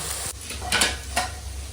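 Cooked rice being stirred gently into fried vegetables with cashews and raisins in a pan, heard as two or three soft scraping strokes over a low background sizzle.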